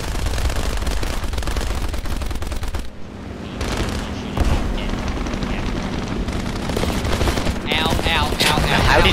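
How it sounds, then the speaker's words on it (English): An Abrams tank fires in a video game battle, a dense, continuous barrage of rapid machine-gun rattle and deep booms that stays loud throughout, with a brief dip midway. "I'm casually on the loading screen watching an Abrams tank just tear shit to pieces"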